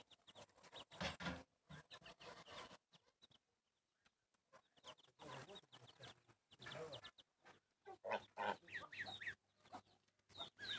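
A mother hen clucks in a farmyard among her chicks, soft repeated clucks and chirps in uneven bursts, quiet and nearby, with a brief lull partway through.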